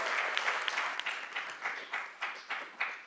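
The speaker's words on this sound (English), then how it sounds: "can we give a round of applause to Vice President Jones?" An audience at a community college board of trustees meeting claps for Vice President Jones, a brief burst of moderate applause with individual claps becoming distinct and rhythmic as it thins out.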